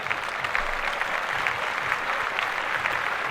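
Steady crowd applause holds level and unbroken for a few seconds, fairly distant and even, with no voices standing out.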